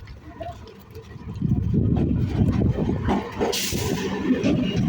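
A crowded train rumbles into platform one with a low, building roar that grows louder, then a sharp hiss of brakes, all amid busy platform noise.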